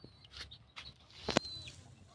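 A red junglefowl rooster (labuyo) at a backyard yard with chicks gives a few short clucks and a brief louder call mid-clip, close by and alone without talk.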